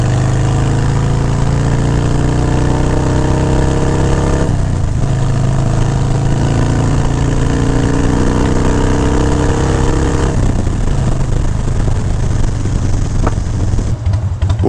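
An old carbureted Harley-Davidson motorcycle engine runs steadily and loudly while the bike is ridden, its deep throbbing drone holding up close and briefly dipping and swelling around mid-clip.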